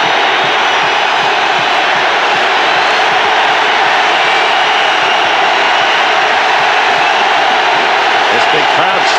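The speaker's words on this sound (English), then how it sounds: "This big crowd standing, cheering that Bills defense on 3rd and 5." A big stadium crowd at a Buffalo Bills football game stands and cheers on third down, a loud, steady roar that fills the whole stretch without a break.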